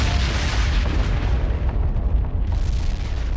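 A supernova explosion sound effect: a continuous, loud, deep rumbling roar with heavy low-end booming that sustains throughout, without any voices.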